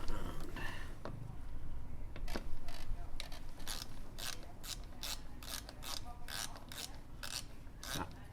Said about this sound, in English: I'm just using that on a little ratchet